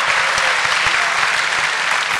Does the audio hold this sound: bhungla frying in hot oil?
no